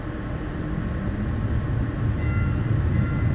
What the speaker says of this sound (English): Please hold on. Streetcar departing.